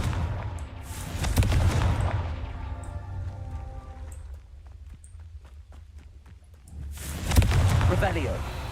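Confringo blasting spell going off in Hogwarts Legacy, a fiery burst at the start followed by crackling debris and a second loud blast near the end, with quieter lingering clatter between.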